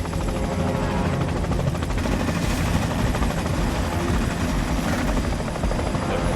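Helicopter in the video game Amerzone, a loud continuous rotor thrum with a dense low pounding that holds steady throughout, close and dominant with no talk over it.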